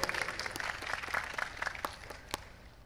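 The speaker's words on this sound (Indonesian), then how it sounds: "Tepuk tangan untuk Gus Dur." Audience applause for Gus Dur at an Islamic lecture gathering in Denpasar, a moderate round of clapping from a crowd that peaks early and slowly thins out with scattered claps toward the end.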